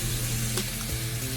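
Onion drops into a hot pan already sizzling with butter and mushrooms, giving a steady close frying hiss with a brief clatter as it lands, a continuous crackle with no voices.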